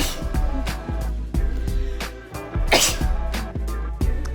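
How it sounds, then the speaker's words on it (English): Repeated sneezes, a dozen or more sharp bursts in quick irregular succession, loud and close with no talking. "how to sneeze properly"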